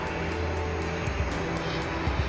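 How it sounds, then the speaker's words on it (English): An American Boeing 787-9 Dreamliner on final approach to DFW Airport gives off a steady, loud engine rumble with a broad airy roar. Faint periodic thumps run underneath. "It's a 7879 Dreamliner about to touch down"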